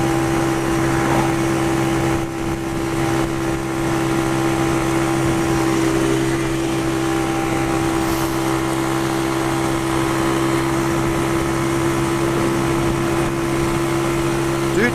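A Pioneer Torro XF125S single-cylinder motorbike idles steadily and close by, a constant droning hum with a strong low tone that holds unchanged for the whole stretch.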